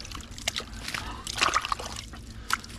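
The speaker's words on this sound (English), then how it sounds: "That water main is broke right here." Water splashing and trickling from a broken PVC water main in a dug-out trench, a steady near slosh and drip with faint background noise.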